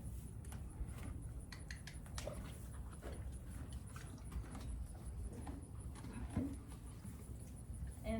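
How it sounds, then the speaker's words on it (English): A sore-footed Thoroughbred mare, her boots just taken off, lifts a hoof, with scattered soft hoof knocks and shuffles on the ground in a quiet setting. "I'm gonna ask her to pick her foot up."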